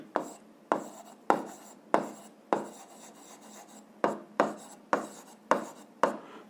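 A pen writes by hand on paper, producing a rhythmic series of about ten short scratchy strokes, each a sharp attack fading quickly, close and fairly quiet, with no speech.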